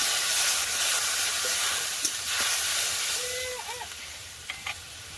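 Ground cumin and chili paste thinned with water hitting browned onions and garlic in a pan, a loud close steam hiss that slowly fades, with a few faint clinks near the end.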